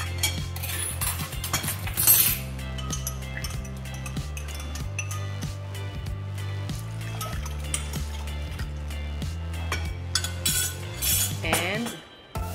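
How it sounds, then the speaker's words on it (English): Dashi stock is mixed into beaten brown eggs in a bowl for chawanmushi, with steady close clinking of a utensil against the bowl in a repeating rhythm. "Now we're gonna mix the dashi stock"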